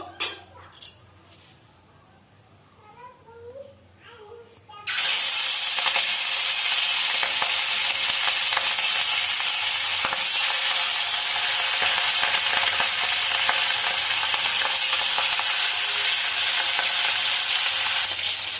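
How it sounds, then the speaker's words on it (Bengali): Pangas fish drop into hot mustard oil and fry with a sudden loud, steady sizzle that holds unbroken for many seconds after a few quiet handling sounds. "তেল দিয়ে দিচ্ছি সর্ষার তেল মাছটা ভেজে নেব তেলটা গরম হয়ে গেছে এবার মাছগুলো ভেজে নেবো"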